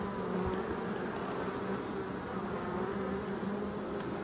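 Honey bees at a forest hive defend against hornets with a dense, continuous buzzing swarm drone that holds steady and close throughout, with no voices.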